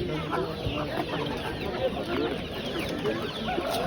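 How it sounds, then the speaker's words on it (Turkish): Broiler chickens at a bird and poultry market in Antakya, Hatay, clucking nonstop in a dense, close chorus of overlapping calls with busy market murmur beneath. "Etlik tavuklar bunlar."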